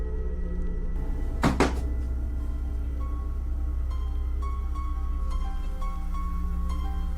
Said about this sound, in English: The creepy things down here always start with a ghost slamming the door.